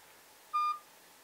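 A ZGPAX S79 smartwatch gives a single short electronic beep, clean and tonal, lasting about a quarter second against a quiet background.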